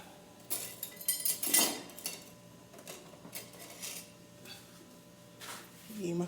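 Cutlery clinks and rattles as a fork is picked out from among utensils in a home kitchen while making bread pudding, a quick cluster of close metallic clinks followed by a quiet room.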